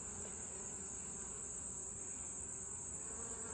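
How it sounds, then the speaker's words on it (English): Honey bees swarm inside a crowded hive during an inspection, a faint, even drone of many wings humming steadily throughout. "there's so many bees in this hive"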